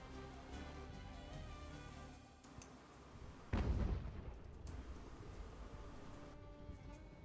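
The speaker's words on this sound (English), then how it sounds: "just have the guns shoot" Naval cannon fire in Ultimate Admiral: Age of Sail, a loud booming shot rising over a continuous rumbling game background.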